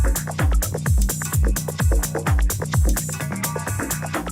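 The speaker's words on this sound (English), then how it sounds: "That was cool, like little metal bells" A music track transition with rapid, bright metallic bell-like hits in a steady rhythm, layered over a thumping, pitch-dropping bass pattern, loud and close with no voices.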